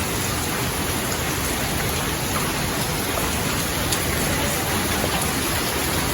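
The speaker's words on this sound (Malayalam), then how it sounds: "പിന്നെ ഇവിടെ നല്ല മഴയാണ്, ഞാൻ നിങ്ങൾക്കൊന്ന് കാണിച്ചു തരാം." Heavy rain pouring steadily near a house and pond, a dense, even hiss that holds at full strength throughout with no pauses and no voices.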